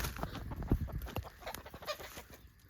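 A free-range hen clucks in short, uneven bursts close by, with scratchy rustling and small knocks around it; no voices.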